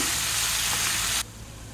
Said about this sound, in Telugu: గోంగూర బాగా వేగిపోయింది కదా